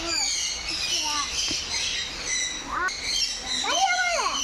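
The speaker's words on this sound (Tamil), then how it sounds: "பேர்ட்ஸ் பயங்கரமான சத்தம்," Many birds in a long aviary at the Ooty bird park squawk and call loudly, overlapping shrill cries and rising, falling chirps repeating throughout at close range.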